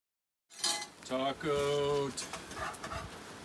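Dishes clatter and clink at the sink during cleanup after a chili dinner, with a few quick bright knocks and a short run of squeaky, tonal scraping in the middle, fairly close and busy.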